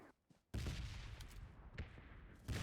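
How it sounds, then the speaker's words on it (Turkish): Dense, continuous burst of rapid video game gunfire, loud and close, starting abruptly after a brief quiet lull and sustaining with intermittent sharper cracks. "Arkadan silah sesi geliyordu."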